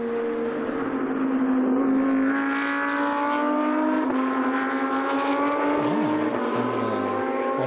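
GT2 race cars, an Audi and a Porsche battling at Dijon, roar loudly and steadily throughout, their engine notes holding high sustained pitches with a brief shifting dip near the end.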